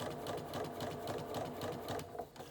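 A sewing machine stitching pieces of a LeMoyne star quilt block runs in a fast, even, rhythmic whirr of needle strokes, close and steady, easing slightly toward the end.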